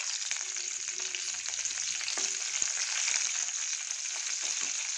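Chopped green chillies and garlic frying in a pan, a steady bright sizzle with faint stirring clicks, close and continuous with no talk.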